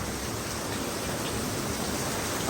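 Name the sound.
heavy rain with thunder in Marrakesh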